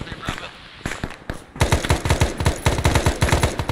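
Rapid automatic gunfire from an Arma 3 firefight crackles in sharp repeated bursts, a few scattered shots at first and then a dense, loud rattling stream.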